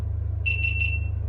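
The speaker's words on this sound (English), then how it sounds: "3 beeps means it saved the video file" A GoPro camera gives three short, high, clear beeps in quick succession to confirm that a video file has been saved, over a steady low hum.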